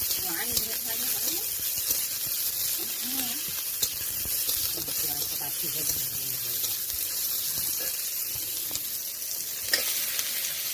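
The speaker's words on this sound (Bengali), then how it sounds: "তেলটা গরম হয়ে যাওয়ার পরে কুচানো পেঁয়াজ, কুচানো কাঁচা লঙ্কা দিয়ে ভালো করে একটু নেড়ে চেড়ে নেবে" Chopped onion and green chili sizzle in hot oil in a pan while a spatula scrapes and stirs them, a steady close crackle with occasional clinks, and someone speaks over it.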